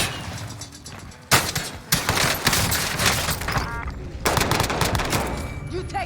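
Heavy gunfire from Call of Duty Warzone, with dense bursts of automatic shots in two loud stretches separated by a brief lull, filling the whole moment with sustained rattling fire.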